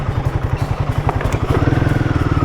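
Off-road vehicle on a Rubicon trail rolls over a fallen branch, its engine pulsing in a close, rhythmic chug with brief scraping and crackling as the tires climb the wood.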